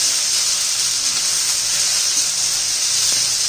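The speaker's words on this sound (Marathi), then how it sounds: "आता पावटा घालायचा आहे तो या कांद्याबरोबर असा तेलात परतून घ्यायचा" Pavta beans sauté in hot oil with onion, giving a steady, loud hiss and sizzle that holds evenly throughout with no break.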